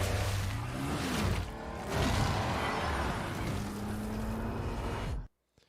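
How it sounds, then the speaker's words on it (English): A loud, continuous engine roar with a rising and falling pitch, like a heavy truck motor revving, played back and cutting off abruptly at the end. "I like that it sounds like a truck."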